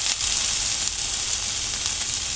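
Tomatoes frying in a pan with garlic and onion, a steady close sizzle with faint stirring, no voices.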